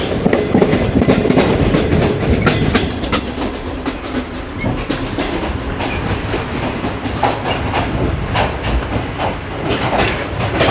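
A train at Margalla railway station in Islamabad rolls past with a loud, steady clickety-clack of wheels over rail joints and a continuous rumble and hiss throughout.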